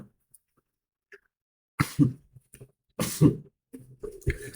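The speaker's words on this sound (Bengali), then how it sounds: "সো সরি, আমার একটু কাশি পেলো।" A person coughs a few times nearby in a quiet indoor room, with three short, separated bursts after a silent stretch.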